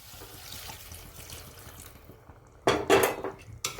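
Hot water is poured into a pan of hotel-style potato curry (batata bhaji), a sudden splashing burst after a quiet kitchen background, with a brief second pour near the end.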